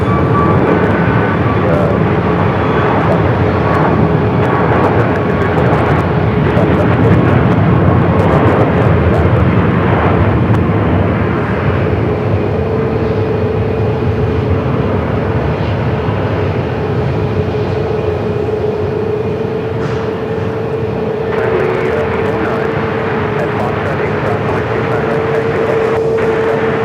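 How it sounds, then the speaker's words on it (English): WestJet airplane at Phoenix Sky Harbor airport, a loud continuous jet roar with a steady tonal whine that rumbles on throughout, faint chatter nearby. "A little WestJet"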